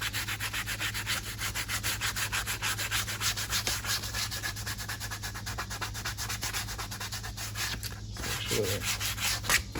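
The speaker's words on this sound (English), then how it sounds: "We'll just scuff this up a little bit just to make sure it's not real dirty or anything." Reclaimed material for a strop being scuffed up before gluing, a steady close rasping rub repeated in quick even strokes for about ten seconds, with no voice.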